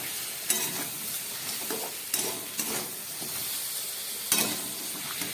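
Mixed vegetables sizzle and fry in a pan for Bengali labra, with a steady hiss broken by several sharp stirring scrapes and clinks, close and fairly loud.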